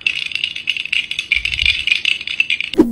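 Plastic Lego-style blocks rattle and clatter in a video game, a busy, continuous clicking jumble close up, ending with a short sharper knock.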